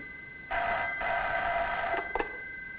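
A telephone rings with a loud electric bell tone, one sustained ring that then breaks into a few short stuttering bursts before stopping, with no voices.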